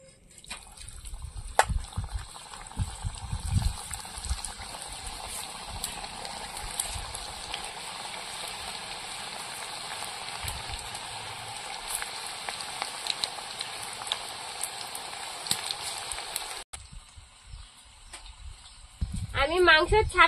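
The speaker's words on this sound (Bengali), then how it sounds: "তেলটা গরম হয়ে গেছে, এবার পেঁয়াজি গুলো তেলের মধ্যে ছাড়বো।" Onion fritters (peyaji) frying in hot oil give a steady, dense sizzling hiss for most of the clip. The sizzle cuts off sharply near the end, and voices and clattering come and go underneath.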